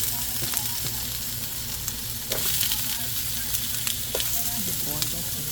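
Onion hitting a hot pan and sizzling: a loud, steady broadband frying hiss that swells after a couple of seconds, with occasional stirring scrapes and a low background hum, no talking.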